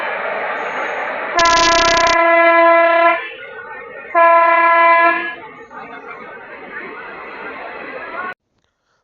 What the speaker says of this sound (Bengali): বন্ধুরা আমার পেছন দিয়ে কি ট্রেন যাচ্ছে তোমরা জানো? এটা হচ্ছে লালগোলা কলকাতা ধনধান্যা এক্সপ্রেস।